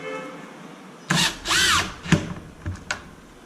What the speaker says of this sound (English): And then I can take my drill here and just tighten them.